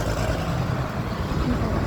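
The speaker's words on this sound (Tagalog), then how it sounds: "Ang ingay ng sasakyan." Passing road traffic on a street in Cyprus, a close, steady low rumble of car and truck engines that holds at a moderate level through the short stretch without any speech.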